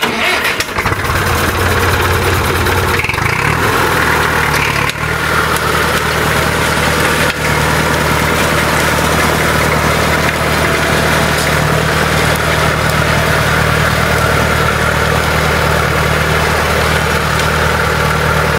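An IMT 560 tractor engine cranks and catches, then settles into a loud, steady diesel idle with a constant low throb that continues to the end.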